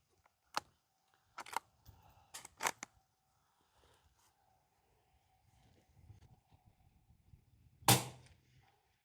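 A small bolt-action rifle in 5.56 fires outdoors with a few sharp cracks, spaced out and then a louder final shot, over quiet background with faint rustling between.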